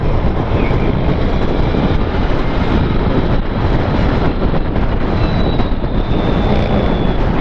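A Victory Empulse TT electric motorcycle cruising at about 72 mph, heard as a continuous loud rushing roar of wind and road noise with a faint high motor whine, steady throughout with no speech.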